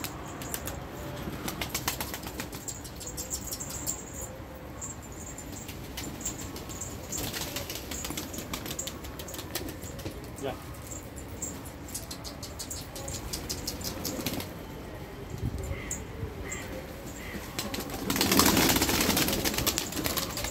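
Fluttering wing flaps of Turkish tumbler pigeons taking flight outdoors in Esenler, Istanbul, with soft cooing and a steady low engine hum; a louder rush of flapping near the end.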